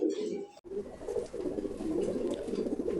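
Damascene pigeons coo repeatedly in low, throaty rolls on a pigeon farm, a brief gap early on, then continuous cooing nearby with faint chirps.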